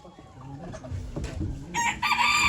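A rooster crows nearby at a chicken auction in Ankara, a drawn-out cock-a-doodle-doo rising to a loud, strained finish over faint background noise.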